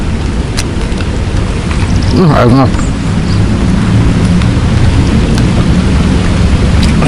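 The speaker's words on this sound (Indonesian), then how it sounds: "Hujan nih mah. Banyak." Heavy rain pours down in a steady roar, and a rumble of thunder rolls briefly through the downpour. A voice calls out once over the rain.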